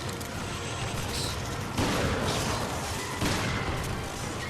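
Dense, continuous gunfire from a machine gun in the Resident Evil Revelations game, with the Ghost Ship stage as the setting, steady and loud and alone throughout, swelling into heavier bursts partway through.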